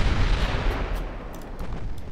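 Heavy battleship guns firing in the naval game Ultimate Admiral Dreadnoughts, a continuous deep rumbling roar of cannon fire and booms blending together, loud and steady throughout.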